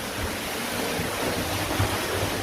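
A waterfall near Nuapada splashes and roars as a constant broadband rush of water, close and loud, with gusts of wind on the microphone.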